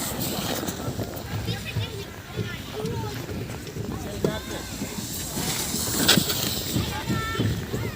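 Blizzard wind roars steadily outdoors near the sledding hills at Victory Park, with a constant loud rush buffeting the microphone and a family talking over it.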